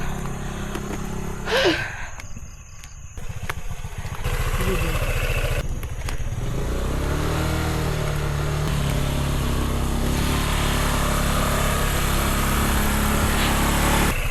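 A small motorcycle engine drones loudly and continuously, revving hard under strain while climbing a mountain road until it gives off a burning smell, with a brief voice and some clatter near the start.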